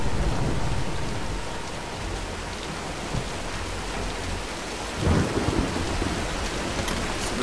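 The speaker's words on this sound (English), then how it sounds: "let's wait out the storm" In the 2012 Tomb Raider game, a thunderstorm pours steady, heavy rain with a constant hiss, while rolling thunder swells underneath and a louder rumble rises near the end.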